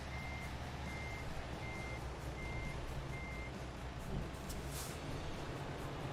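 Reversing beeps from a truck in American Truck Simulator pulse in an even series of five tones over a steady low engine rumble, with a brief hiss near the end and no talking.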